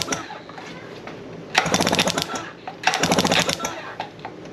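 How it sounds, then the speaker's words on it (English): Rapid crackling bursts from a spark tester on a Mercury 15 hp outboard being cranked, two loud buzzy runs of about a second each with quieter gaps between. "So let's see if we have good spark."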